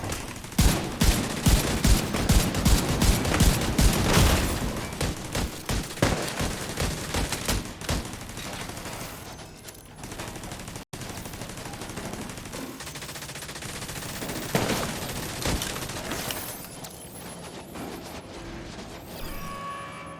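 Turret gunfire in The Division 2, opening with loud rapid bursts of close automatic shots in a fast rhythm, then thinning into scattered, more distant firing and impacts amid ongoing combat noise.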